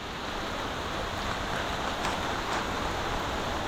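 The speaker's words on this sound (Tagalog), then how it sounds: "Yan na, lumakas na yung ulan." Heavy rain pours down outdoors near a fishpond, a dense, steady hiss at constant loudness without pauses or speech.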